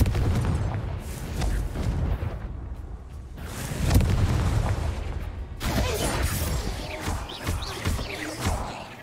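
A Confringo blasting spell fired in the video game Hogwarts Legacy, heard as several heavy booming explosive bursts over a dense, rumbling game soundscape, the loudest crack arriving near the middle.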